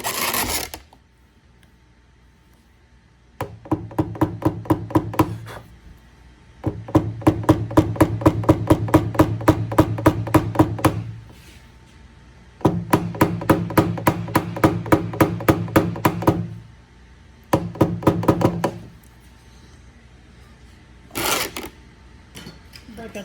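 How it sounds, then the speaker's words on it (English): A hammer taps down hail dents on the roof of a Toyota Camry, sounding as rapid, even bursts of sharp metallic taps that pause between runs. "And you just tap it down again. Tap it down."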